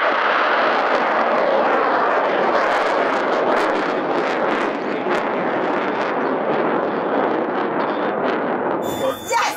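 The Nucleus rocket lifts off in a long, loud, broadband roar with crackling, rumbling bursts that holds steady for several seconds. Near the end a faint voice comes in as the roar begins to ease.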